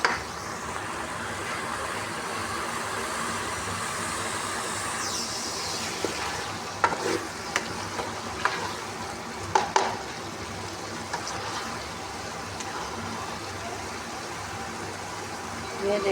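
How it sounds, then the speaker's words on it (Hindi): Potatoes, cauliflower and spinach stir-fried in a pan over an open flame, with a steady soft sizzle and occasional scraping and clinking of a spoon against the pan, while someone talks over it. "अब इनकी मैं बुनाई करूँगी।"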